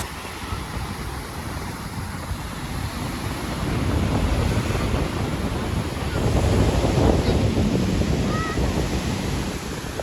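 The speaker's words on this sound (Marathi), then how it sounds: "इथे तुम्ही बघू शकता खवळलेला समुद्र" Rough sea waves at Devghali, Kasheli, Ratnagiri surging and crashing in a continuous roar, mixed with gusty wind buffeting the microphone, growing louder midway.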